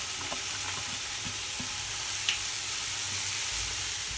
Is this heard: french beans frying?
yes